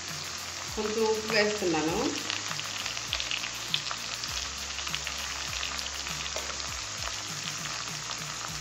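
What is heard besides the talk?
chicken frying in a pan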